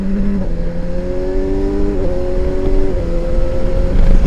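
A 2025 Kawasaki Versys 1100 motorcycle accelerates hard on a twisty road, its engine note climbing and dropping through several gear changes. It is close and loud, with steady wind rush behind it.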